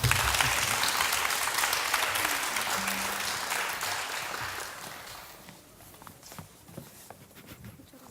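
Applause from an audience at a children's composition recital in Uijeongbu, dense and steady for about five seconds before thinning into scattered claps; a faint voice may sound beneath it.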